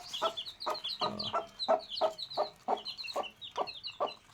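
Rhythmic, close clucking from a hen with four chicks at a village home repeats every half second or so, mixed with bright, high cheeping from the chicks.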